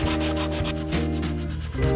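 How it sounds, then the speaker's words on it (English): Steady sanding of a 3D-printed plastic helmet with sandpaper wrapped around a file, a dry rasping scrape repeated in quick back-and-forth strokes, close and continuous with no talking. "I wrapped some sandpaper around a file, and I'm sanding it out like that."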